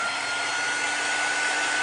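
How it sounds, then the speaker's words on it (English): A handheld hair dryer blows steadily on a damp Chalk Couture board surface, giving a close, loud, unbroken airy roar with a faint whine throughout and no talking. "I could hit it real quick with the dryer."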